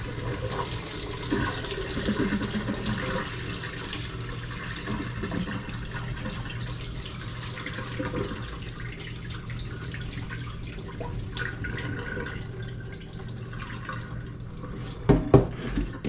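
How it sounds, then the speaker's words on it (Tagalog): Soaking water drains from ingredients being readied for laing, a low, continuous watery trickle and rush running close and fairly quiet, ending in a few sharp clatters near the close, with no talk. "we're just gonna drain the water"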